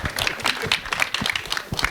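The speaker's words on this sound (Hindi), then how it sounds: "विक्रम भट्ट साहब के लिए एक बार जोरदार तालियां हो जाए." An audience at a film trailer launch event claps loudly and steadily in a brief burst of close, dense applause.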